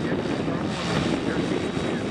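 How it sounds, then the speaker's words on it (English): A light aircraft makes a low look-see pass at a ranch fly-in in California, a loud, steady, broadband engine and propeller roar held close throughout, with no clear talking over it. "this is the low pass, the look-see low pass."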